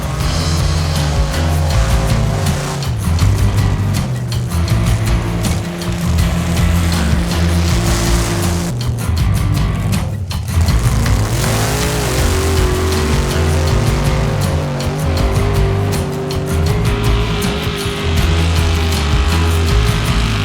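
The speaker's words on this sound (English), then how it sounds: "Paddle tires working great, and nobody holds the throttle down like Justin Haft" Off-road buggies, including a diesel buggy, running paddle tires during a tow test: loud, continuous engine roar with throttle held down, pitch rising and falling as revs change, close and dominant throughout.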